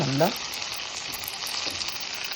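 Close, crackling sizzle of vegetables for samba rava upma frying in hot oil, a continuous spitting texture after a brief stir at the start.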